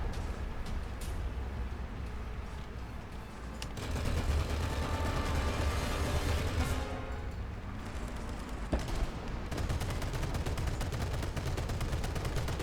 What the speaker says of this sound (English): can't penetrate that